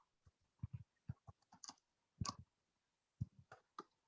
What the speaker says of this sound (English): I'm just going to type it there.